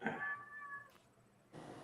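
A house cat lets out one close, drawn-out meow, then a short pause and a softer rustle, in a quiet indoor room.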